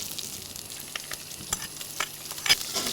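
Chopped ginger tipped into mustard seeds frying in hot oil, giving a soft steady sizzle with light stirring and a few sharp crackles, the loudest pop near the end; no one speaks.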